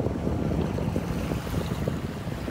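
Motorboat heading out into the Gulf off a North Naples, Florida beach on a calm day, a continuous low engine rumble blended with wind buffeting the microphone and surf, steady and fairly loud throughout.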